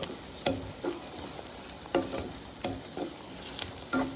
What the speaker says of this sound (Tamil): இப்போ நான் கீத்தாக நறுக்கி வச்சுருக்க கத்திரிக்காவை போட்டுருக்கேன். இந்த கத்திரிக்காவும் நல்லா வதங்கணும்.